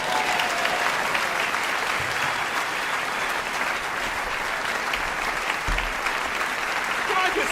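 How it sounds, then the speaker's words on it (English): An audience in the Steinway Room at a live piano performance breaks into sustained applause, dense and close clapping that fills the whole stretch without letting up. "Round of applause."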